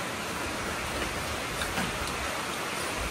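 Steady rain falls throughout, a continuous even hiss of drops on surfaces with no pauses and no voices.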